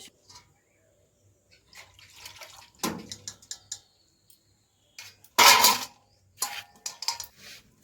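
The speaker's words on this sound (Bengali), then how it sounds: "এই আলুগুলোর মধ্যে একটু জল দিয়ে দেবো, না হলে লাল হয়ে যাবে।" Water splashing over peeled potatoes in a bowl, with two short pours and clinks of a vessel against dishes amid quiet kitchen handling, then a few drips.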